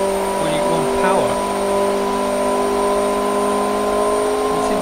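Engine running smoothly under power, a steady loud tonal drone with constant pitch and no surges, while someone talks over it throughout.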